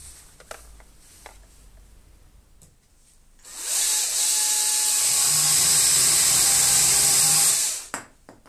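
A battery-powered telescopic pole saw, Stihl or Husqvarna, bites into wood with a loud, high electric whine that holds steady for about four seconds, then cuts off abruptly after quieter handling noises.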